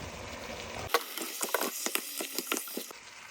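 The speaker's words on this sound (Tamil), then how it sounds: "இப்போ ஒருக்கா திறந்து கிளறி விடுவார்" Stirring chicken uppu curry in a pot: a run of soft scraping, clacking stirs with a low simmering sizzle beneath, close and moderately loud, with no talking.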